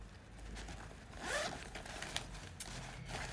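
The zipper on a MAGIDEALS handbag is drawn in one quick, close rasping pull, followed by a few small clicks and handling noises in a quiet room.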